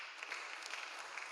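A church congregation applauding, a steady, fairly faint patter of many hands clapping together for a short moment.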